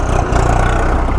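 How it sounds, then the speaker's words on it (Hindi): Tractor engine on a rural road, a steady mid-to-low mechanical chug with regular pulsing, close and loud, no voices. "ट्रैक्टर आ रहा है, साइड कर देते हैं थोड़ा,"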